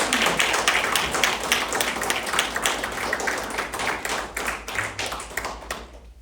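Audience applause at a council meeting, a dense, steady round of clapping from a crowd in a hall, fairly loud and continuing for several seconds before tapering off at the end, with no talking over it.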